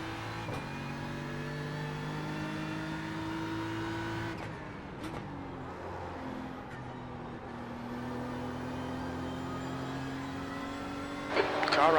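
Race car engines in the iRacing sim during an IMSA race at Watkins Glen drone steadily with layered harmonic whines, shifting pitch around the midpoint as faster cars close in, with a brief rise in noise at the end.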